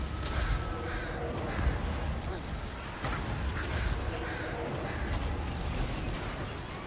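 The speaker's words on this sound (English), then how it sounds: "Oh, look at all those crows." Crows caw repeatedly in the Total War Warhammer video game, harsh calls scattered over a dense, steady battle ambience.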